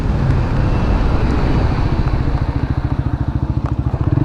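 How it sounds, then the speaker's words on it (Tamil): A TVS Apache RTR 160 4V motorcycle brakes hard from 100 km/h. The loud engine drone and wind rush give way to a slowing, throbbing exhaust pulse as the bike decelerates, with no talking. "ஸோ இப்போ வந்து பிரேக் அடிப்போம்."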